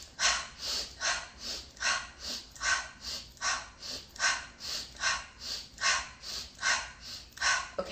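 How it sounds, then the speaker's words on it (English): Rhythmic Wim Hof style breathing, in through the nose and out through the mouth, about fourteen quick breaths in eight seconds, each a soft airy whoosh, close and steady with no talking. "I'm going to show you what the breath will look like in through the nose, out through the mouth"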